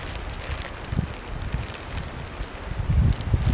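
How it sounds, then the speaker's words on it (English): Gusty wind rushing through trees around a sheltered wilderness campsite in the Boundary Waters, a low continuous roar with irregular swells and a stronger gust near the end, no voices. "Fairly windy, with a lot of wind gusts"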